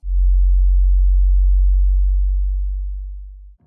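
A low infrasound tone plays as a demonstration: a single steady, very deep sine hum held for about three and a half seconds before fading out, with nothing else heard.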